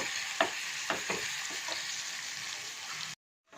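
Onion, garlic and curry leaves sizzle in hot oil with popped mustard seeds while tempering for keerai kuzhambu, a steady frying hiss broken by a few stirring clinks before sudden silence.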